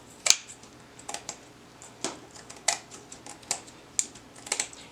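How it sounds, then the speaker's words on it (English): Scissors snip paper around a circle, giving a string of quiet, crisp clicks with uneven rhythm, close by and without any talk. "So I'm just going to cut around the circle here."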